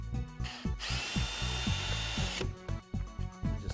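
A power drill drives a screw while a door latch is installed, with short, close whirring bursts and one longer sustained run broken by brief pauses.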